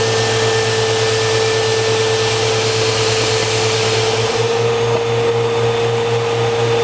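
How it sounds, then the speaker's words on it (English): An IMPACTS S210E-40R shot blaster runs steadily with a loud continuous roar and a constant hum, the shot rushing through the machine without pause, no voices. "Now we're going to go ahead and demonstrate the proper way on how to start the blaster."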